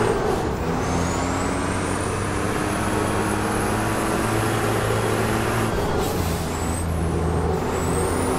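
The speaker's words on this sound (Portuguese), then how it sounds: "Preciso frear um pouco mais, né? Antes da curva." Air brakes hiss on a Volvo race truck slowing for a curve in a clay-track truck racing game, a steady loud rush over a low droning engine, with a whining pitch sweep near the end.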